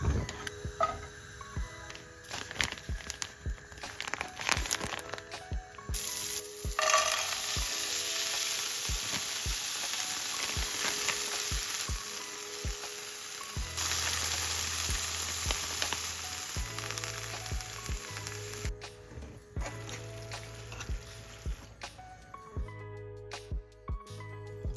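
Chorizo slices, chili pepper, frozen vegetables and noodles with teriyaki sauce stir-fry in a pan, giving a soft, steady sizzle broken by scattered clicks and scrapes of stirring, heard alone and fairly quietly.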